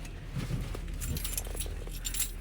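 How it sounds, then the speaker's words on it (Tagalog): Car keys jangle with bright metallic clinks just before being slotted into the ignition of a car parked in wet, snowy conditions; close and moderately loud, several light irregular rattles over a low steady rumble. "Lagyan natin yung susi."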